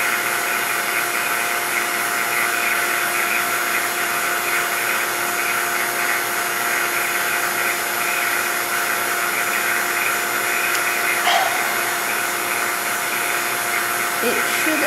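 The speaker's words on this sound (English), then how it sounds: "once we unplug the vacuum, plug out this thing after we turn off the vacuum" A vacuum pump on a vacuum chamber runs with a loud, steady mechanical whine and hum, unbroken throughout, with a faint brief knock near the end.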